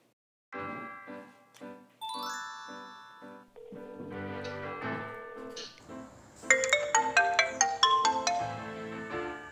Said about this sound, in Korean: 전화를 걸어볼까요?